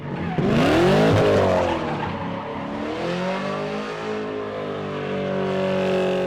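Car engines rev and roar while tires squeal in sweeping pitch glides at MyState Bank Arena, loud and close, with no talking.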